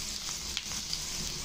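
Cumin, garlic, onion and dried red chilies sizzle in hot oil in a pan with a steady, close frying hiss and a few faint stirring clicks.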